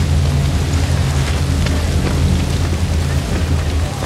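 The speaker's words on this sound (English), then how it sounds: "Is it starting to rain, or is this a leak of some kind?" Heavy rain falls steadily in a scene from the Chernobyl TV drama, a dense, close hiss with a low rumble underneath that holds without a break.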